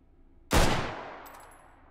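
A single loud WA2000 sniper rifle shot fires in the VR shooter Hot Dogs, Horseshoes & Hand Grenades, a sharp close crack followed by a long fading tail of echo, with no talk over it.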